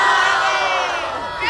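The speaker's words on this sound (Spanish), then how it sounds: "Ahí sí gritaron." Crowd at a comic fest audience shouting and cheering loudly in one sustained burst, close and dense, with no clear single voice standing out.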